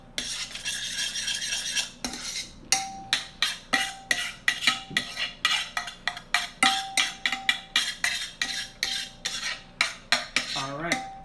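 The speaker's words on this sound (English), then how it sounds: "take my spoon and try to pick up as much of that fond as I can" A metal spoon scrapes browned fond from a pan while stirring grape leaf stuffing with squeezed lemon, making about twenty sharp, rhythmic scraping strokes up close with brief pauses and no talking.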